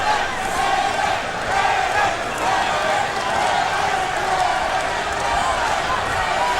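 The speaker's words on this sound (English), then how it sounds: "Lewis's supporters in the crowd chanting for him, Lennox, Lennox, Lennox." A boxing arena crowd chanting a fighter's name, a dense rhythmic roar of many voices at a heavyweight bout in New York, steady and loud throughout with a commentator talking over it.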